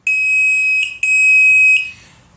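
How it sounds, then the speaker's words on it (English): An outboard engine's overheat warning horn, a newer horn wired to an older engine's controller, gives two long, loud, piercing beeps close by, a short break between them and a fading tail after the second. "So, hear that loud beep?"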